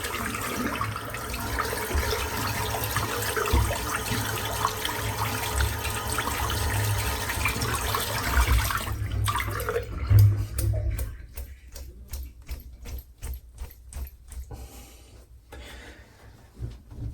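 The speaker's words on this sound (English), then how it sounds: "Let's rinse the brush out" A Semogue Taj Premium boar-bristle shaving brush is rinsed under a running tap, a steady close wash of water for about nine seconds that then breaks into a string of short splashes and flicks.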